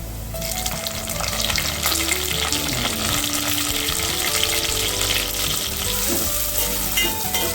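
Tomatoes sizzle and fry with softened onions in a pan for a dried fish curry, a steady loud crackle with occasional stirring scrapes running throughout.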